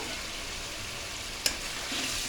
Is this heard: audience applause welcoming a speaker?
no